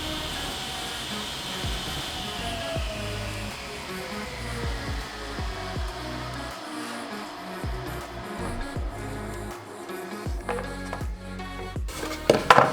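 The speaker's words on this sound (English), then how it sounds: "we're going to take our piece of scrap plywood and just cut a clean edge on it" A table saw trims a clean edge on a scrap plywood panel, the blade's steady whine holding up close throughout as the cut proceeds, then louder knocks and clatter near the end.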